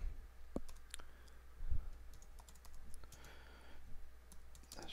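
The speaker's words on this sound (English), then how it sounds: "let me actually type it." Keys clatter on a computer keyboard as a command is typed on a Windows machine, quick irregular clicks close by in a quiet room.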